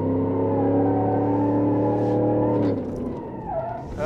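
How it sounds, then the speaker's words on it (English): A car in the BeamNG Drive driving game slides through an attempted drift, its engine holding a steady loud drone for nearly three seconds before easing off into rougher, fluctuating tire and engine noise. "We're still nowhere near a controlled drift here"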